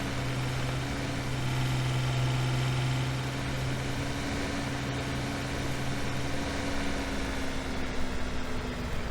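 A steady, low Massey tractor engine idle in Farming Simulator 17 drones on without a break, with a faint whirring hum layered over it and no voices.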